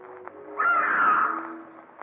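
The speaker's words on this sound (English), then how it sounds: "Look in the sky. Those birds." Birds flying overhead in the evening sky give a single drawn-out, harsh caw-like call that swells and fades over a low background hum.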